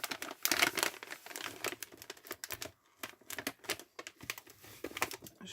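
Crisp paper crinkling and rustling as an advent calendar gift is carefully unwrapped by hand, with rapid irregular bursts of crackles, close and fairly loud, with short quiet gaps and no talk.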